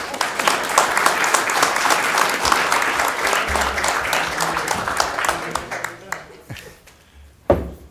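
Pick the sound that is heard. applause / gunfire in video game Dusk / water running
applause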